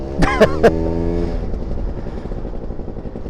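A small-frame Vespa scooter engine labouring uphill in first gear in a steady, low, droning hum, heard up close, with a few brief clicks and squeaks at the start.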